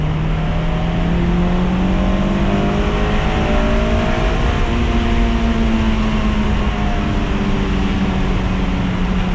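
A 2007 Honda S2000 engine drones steadily at close range, its pitch rising and shifting as it pulls through the gears, loud and continuous with no talking.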